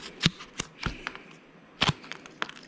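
Garden cutters snipping cardboard, a handful of sharp crisp cuts spaced irregularly, quiet and close, with soft rustling between them.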